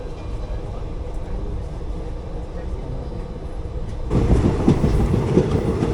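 A train rolls along just after leaving Kollam station, with steady rumbling wheel noise that grows louder and gains rhythmic clattering near the end, heard from on board.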